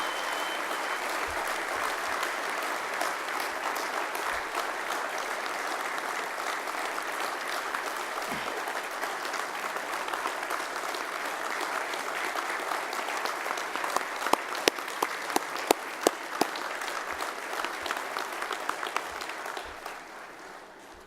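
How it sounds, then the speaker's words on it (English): Banquet audience applauding at an annual award presentation, a long sustained wash of clapping lasting about twenty seconds, with a few sharp close claps near the end before it fades out. "would you please give her a round of applause?"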